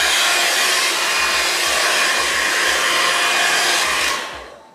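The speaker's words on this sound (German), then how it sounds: "Ich werde da jetzt einmal rüber föhnen" A handheld hair dryer blows loudly and steadily on damp hair at close range, a continuous roaring whoosh that cuts off and fades at the end.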